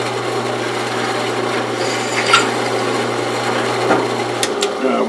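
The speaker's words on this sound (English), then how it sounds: "It's a fairly new drill bit." A fairly new drill bit grinds through a metal workpiece in a home workshop, a steady rasping scrape over a constant motor hum, with a couple of brief sharper squeals near the end.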